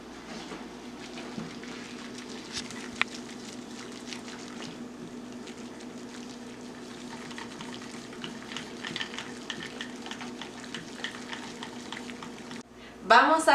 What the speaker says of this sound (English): I'm going to use a molinillo.